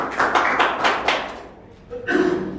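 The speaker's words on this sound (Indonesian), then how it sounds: "Beri tepuk tangan untuk program dari kelompok 2" Brief clapping from a small classroom group in a microteaching session for mechanical engineering, a few loud close claps that fade out, followed by a short burst of noise and voice.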